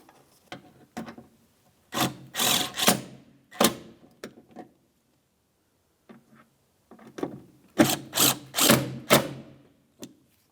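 Mounting bolts being tightened on a 2002-2005 Ford Explorer door latch, clusters of close ratcheting clicks and metallic rubbing in two bursts separated by quiet pauses.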